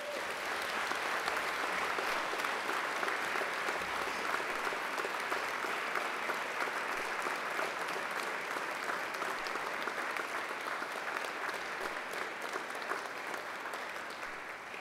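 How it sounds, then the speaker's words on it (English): University graduates at a graduation ceremony in a large hall give a sustained round of applause to their families and friends, a broad, even roar of many hands clapping that carries on without talk. "I invite you to give them a mighty round of applause"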